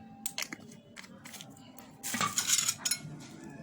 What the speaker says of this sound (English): So at this stage I'll make sure I'll stir it.